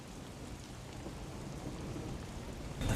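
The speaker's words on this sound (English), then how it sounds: "The faint sound of a ticking clock melts against the sound of rain." Steady rain falling in the Master Detective Archives: Rain Code video game, a dense, even hiss throughout that swells louder at the very end.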